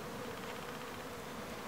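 Honeybees swarm around a beehive with a steady, dense buzzing drone that fills the air without pause, fairly close and moderately quiet, with no voices.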